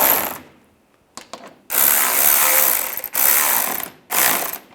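A hand ratchet tightens fog light bracket bolts on a Toyota Corolla, giving several bursts of rapid, close clicking separated by short pauses, with no talking.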